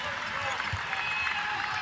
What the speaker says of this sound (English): And the crowd appreciates it.